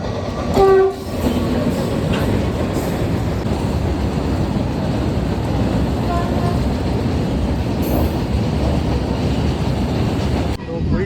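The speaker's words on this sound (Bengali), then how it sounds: "তমলুক স্টেশনে এখন আপাতত ট্রেন যাচ্ছে" A goods train rumbles steadily through Tamluk station, its wagons clattering close by for the whole stretch, with a short horn-like tone near the start and faint voices at times.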